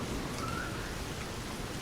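Steady rain falls in a soft, even hiss with no pauses and no voices, a constant wash of sound across the whole stretch.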